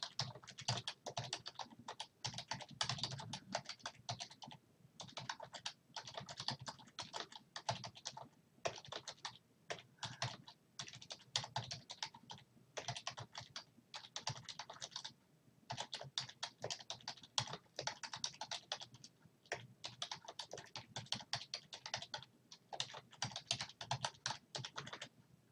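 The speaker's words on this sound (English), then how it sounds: "So I'm going to type my directions." Steady computer keyboard typing runs for the whole stretch, quick clustered keystrokes broken by short pauses as words are entered, close and clear with no talking.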